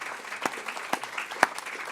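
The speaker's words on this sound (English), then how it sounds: "can we give a round of applause to our panelists?" An audience at an education Q&A panel gives a round of applause: a steady patter of clapping from a modest crowd, moderately loud, with a few sharper claps standing out.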